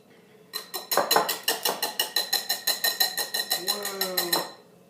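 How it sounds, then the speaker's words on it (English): A spatula scrapes and taps against a bowl to knock off stuck sugar while date and clementine bars are baked, giving a fast, steady run of about twenty sharp clicking strokes lasting several seconds. "Oops, just get some of that sugar that's stuck on the spatula."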